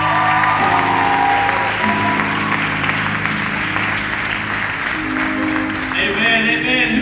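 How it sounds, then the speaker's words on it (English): A church congregation at a youth group service claps hands steadily and loudly for about seven seconds, with organ or keyboard chords sustained underneath and a few voices mixed in. "why don't you give a hand clap of praise to Jesus"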